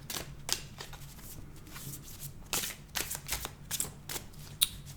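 A deck of cards being shuffled during a morning card reading, in a run of brisk riffling bursts with crisp snaps, close and fairly quiet, with no voices.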